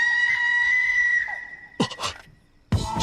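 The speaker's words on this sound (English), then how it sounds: "only to hear Asahina scream." An anime character in Ao Oni the animation screams in a sharp, loud outburst near the end, following a sustained tonal hum and a brief earlier yell.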